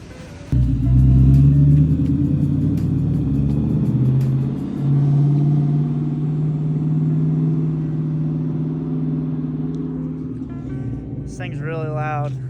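A Coyote-swapped Ford F100 pickup revving hard on a dyno, its engine roaring with a deep, sustained rumble that rises, dips briefly and holds before tapering off, with voices faintly underneath.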